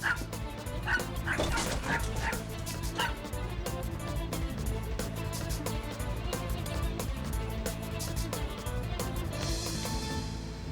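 A dog yips, barks and whimpers in quick excited bursts close by, continuing over a steady background hum.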